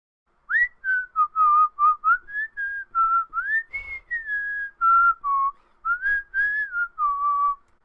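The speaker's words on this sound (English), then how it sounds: "Whistle with your hands behind your back" A person whistles a wandering melody alone, in short clear notes with brief gaps, close and fairly loud.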